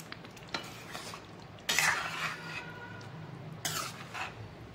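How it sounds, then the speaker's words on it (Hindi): Fried paneer pieces stirred into a cooked gravy in a metal pan for paneer butter masala, with a few soft scraping and clinking bursts of a spoon against the pan over a faint background. "अब हमने जो पनीर फ्राई किया था वो इसमें सारा डाल देंगे मिक्स कर ले अच्छे से"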